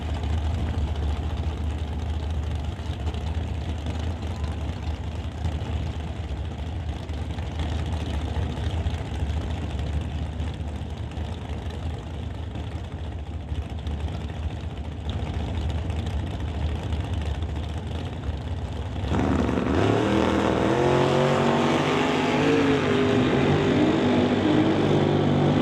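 At a drag strip, a 1983 Firebird and a 2000 dragster race, a steady distant engine drone giving way to a louder, harsher roar near the end as the cars launch, with no voices heard.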